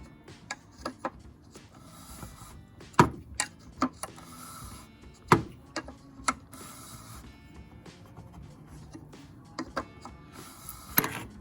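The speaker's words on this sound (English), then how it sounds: "And then you just tighten it up with the wrench." A wrench tightens the oil filter on a 2013 Dodge Challenger V6 during an oil change, giving close, irregular metallic clicks and sharp ticks scattered over several seconds with quiet gaps between them.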